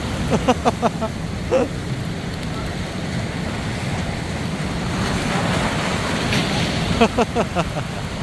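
Ocean surf rolls and washes continuously at dawn during sandfish trap fishing, with wind buffeting the microphone, plus a few sharp knocks and thuds nearby.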